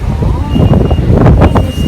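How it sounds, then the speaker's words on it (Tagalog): Loud gusts of wind buffet the microphone in rough, rumbling bursts, with a faint engine-like drone beneath; no clear speech. "Parang bagyo level naman yung hangin"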